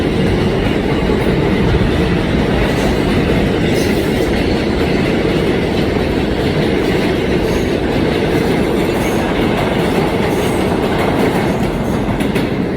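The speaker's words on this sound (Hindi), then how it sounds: "अभी एक ट्रेन दिया, पता नहीं कौन सा ट्रेन दिया है।" Train rolling into a station, loud and close, with continuous rumbling clickety-clack of wheels on rails and occasional high wheel squeals over a steady roar, no voices.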